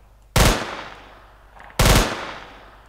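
P90 submachine gun fired in a Minecraft gun mod, heard as two loud, sharp shots about a second and a half apart, each ending in a short decaying tail, with no talking.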